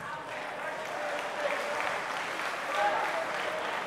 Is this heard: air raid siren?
no